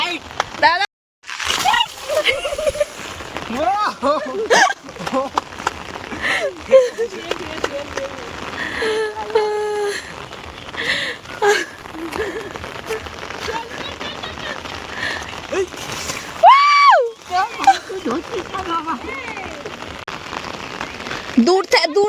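Rain pours onto umbrellas in a steady spattering hiss while people talk and laugh close by, with a brief whistle-like tone partway through.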